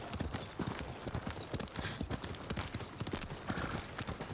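Horse hooves clip-clopping in the video game Ghost of Tsushima, a quick steady gait of close, distinct hoof strikes repeating throughout with no talking.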